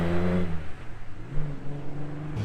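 A restored Austin Healey 3000 MK3 (BJ8 Phase 2) being driven around Oliver's Mount race circuit, its engine note dropping as it shifts, then rising again in a steady, close, loud drone.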